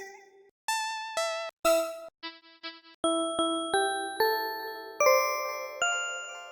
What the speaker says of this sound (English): Okay, we can use these bells.